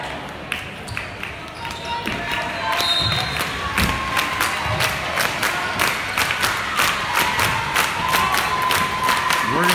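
Big crowd noise at a high school basketball game, Griggsville against Holy Family, with cheering and shouts building, sharp claps and thuds scattered throughout, and voices talking over the steady roar.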